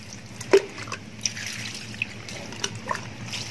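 Water washing the leaves of a small potted caladium plant: a soft, continuous trickle and splash with occasional small drips, close and moderately loud, with no speech.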